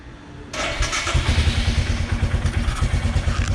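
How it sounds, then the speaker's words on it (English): A motorcycle cold-starts after sitting about 15 days: a brief starter crank, then the engine catches abruptly and settles into a loud, close, lumpy idle with a steady pulsing rhythm. "Most important thing before you turn on the air pump is you get the motorcycle started"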